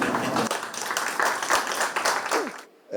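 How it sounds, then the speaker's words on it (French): Audience applause for a theatre team at the inauguration of a university theatre lab in Mauritius: dense, steady clapping from a mid-sized crowd that cuts off abruptly near the end, with faint voices mixed in. "pour vous demander humblement si nous pouvons applaudir à l'équipe"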